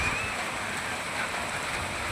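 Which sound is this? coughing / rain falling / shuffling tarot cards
rain falling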